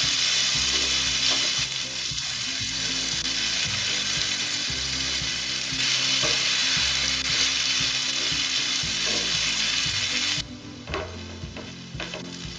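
Veg Hakka noodles stir-fry with vegetables, ketchup, soy sauce and chili sauce, giving a loud, continuous sizzle with scraping and tossing noises, then a sudden drop to softer frying with scattered clanks near the end.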